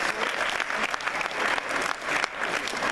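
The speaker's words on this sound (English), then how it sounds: "So let's give those a round of applause as well." A school audience at a career day gives a round of applause for faculty and staff, dense steady clapping filling the room throughout, close and moderately loud with no speech.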